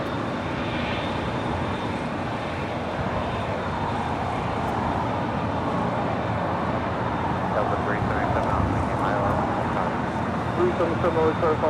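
Turkish airliner jet taxiing and turning at LAX, a constant broad engine rumble and whine close to far, with people talking over it throughout.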